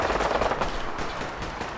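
Rapid automatic gunfire in the video game Fallout 4 crackles as a continuous dense burst of shots, moderately loud, with no voices over it.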